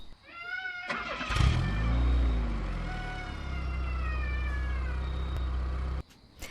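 A voice imitates a car engine, a rising start-up roar that settles into a steady idling rumble for several seconds before cutting off abruptly, heard alone.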